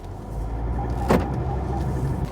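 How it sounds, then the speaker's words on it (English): A 2012 Volvo XC60 R-Design's five-cylinder engine idles with a steady low warble heard from close by, and a brief mechanical click or clunk sounds midway. "It's got that famous 5-cylinder warble."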